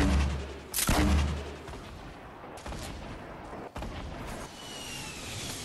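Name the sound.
gunfire from a weapon in the Fortnite video game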